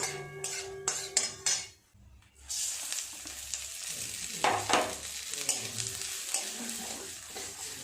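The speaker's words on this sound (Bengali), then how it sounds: "চালটা এখন 4-5 মিনিট সময় নিয়ে ভালো করে নেড়ে চেড়ে ভেজে নিতে হবে।" Rice stirred and fried in ghee with whole garam masala and a bay leaf: close scraping of a spoon against the pan, metallic clinks and steady sizzling throughout.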